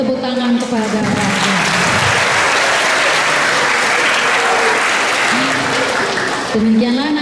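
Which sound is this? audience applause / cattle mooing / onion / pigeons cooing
audience applause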